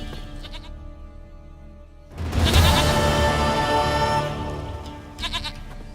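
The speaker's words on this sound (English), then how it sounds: "Goat of mine, dearest, sweetest goat." A goat bleating in The Witcher 3 video game: a loud, wavering bleat lasting about two seconds, set against quiet game music with tonal chimes, then fainter chiming afterward.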